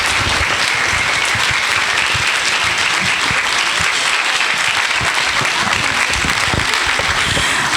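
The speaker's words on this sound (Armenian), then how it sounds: "Եկեք մեծ սիրով եւ բարձր ծափահարություններով նրան բեմ հրավիրենք" Sustained audience applause fills a children's vocal studio concert hall as the studio's director is welcomed to the stage, dense steady clapping throughout with scattered louder claps and a faint murmur of voices.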